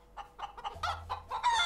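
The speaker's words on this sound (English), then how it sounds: "these are two painted chickens" Several hens cluck in quick, irregular bursts, fairly close, with a low steady hum running underneath partway through; painted chickens.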